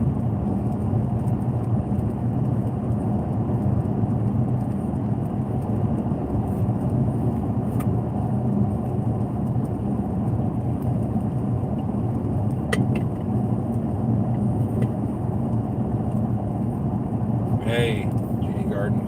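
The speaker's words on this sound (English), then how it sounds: "it's raining just enough where I have to actually have my windshield wipers on" A car drives in light rain with the windshield wipers running, giving a steady loud road and engine drone inside the cabin, with a few faint brief clicks and someone talking over it.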